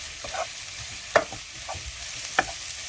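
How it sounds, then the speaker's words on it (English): Onion, ginger and garlic fry in a pan with a soft sizzle, while a spoon scrapes and stirs in three distinct strokes. "And fry it for a little while longer till you see the onions becoming a little soft"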